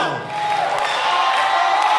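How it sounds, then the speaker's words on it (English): Crowd shouting and cheering in a lively Nigerian talent show audience during a praise song, a loud, continuous wash of voices filling the room. "Oh yeah, shout."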